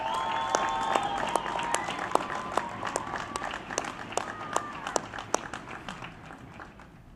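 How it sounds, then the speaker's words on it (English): A graduation ceremony audience at the University of Nevada, Reno, College of Agriculture, Biotechnology and Natural Resources, applauds steadily, many hands clapping in a dense, moderately distant wash with faint voices mixed in. "Please join me in giving her a round of applause."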